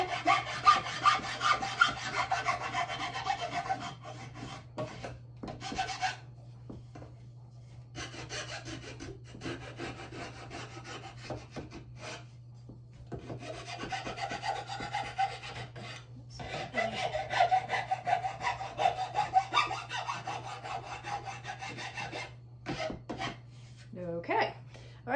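A finer hand file rasps across the wood of a cane chair seat in long back-and-forth strokes, close and steady, with a few short pauses between runs of strokes.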